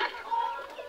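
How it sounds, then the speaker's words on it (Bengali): Mottled cochin and frizzle bantam chickens cluck outdoors in the sun after being let out, a brief close run of soft calls. "এই সবগুলা মোরগ মুরগি ছেড়ে দেওয়ার পর থেকেই অনেক সুন্দর, অনেক বেশি পরিমাণে ডাকাডাকি করতেছে"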